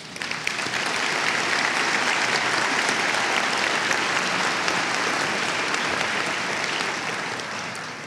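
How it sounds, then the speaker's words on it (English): A large audience gives sustained applause at a spring afternoon ceremony honoring foundation board members and donors, a thick, even roar of clapping that holds steady for several seconds and then eases slightly toward the end. "please give a warm applause to the foundation board members and also to the donors"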